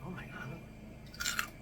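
Roasted pork skin (cuerito) crunches between the teeth in a short burst of crisp chewing near the end, while a person talks.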